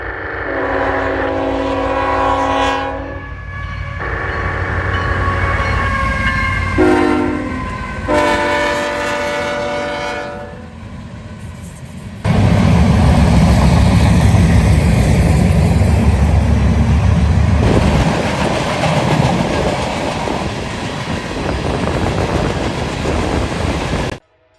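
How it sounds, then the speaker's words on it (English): A CSX southbound steel freight train led by two ET-44 locomotives sounds repeated loud horn blasts, then roars past close by with heavy rumbling wheels and rattling steel cars that continue steadily to the end. "southbound steel train B522, a daily steel between Detroit, Michigan and Middletown, Ohio, heads southbound with two ET-44s for power"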